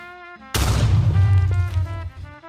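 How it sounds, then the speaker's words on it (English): A sudden explosion booms inside a mine tunnel where miners are digging in Cleveland, a loud low rumbling blast that erupts after a brief musical lead-in and rolls on for about two seconds before fading. "when suddenly, there was an explosion"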